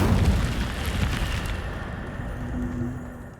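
The Incendio fire spell cast in Hogwarts Legacy bursts out as a loud, rumbling whoosh of flame that fades gradually into a low, lingering roar over a few seconds.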